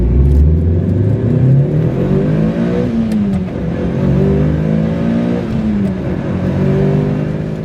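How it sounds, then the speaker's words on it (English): A Mitsubishi Lancer Evolution 8 MR, around 300 horsepower, pulls away under hard acceleration, its engine note climbing and shifting steadily and loud from start to finish with no talking over it. "Driving the Evo 8 MR."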